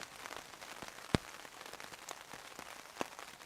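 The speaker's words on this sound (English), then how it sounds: "I mean, it's raining and it's forecast rain all day tomorrow" Rain patters on a woodland wild camp with a simple shelter. Soft, irregular drops tap on nearby surfaces over a faint steady wash, with two sharper, louder drip impacts standing out.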